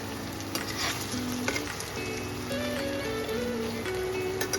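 Close, steady sizzling of paneer pieces frying in a pan, a dense crackling hiss with small pops throughout.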